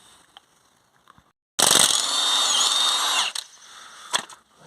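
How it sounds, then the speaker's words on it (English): An electric impact gun with a 15mm socket spins out a suspension bolt on a Ford Focus front strut, a close, loud whirring burst of about a second and a half followed by faint clinks and taps. "Just having the electric gun there makes it so much easier to get these out"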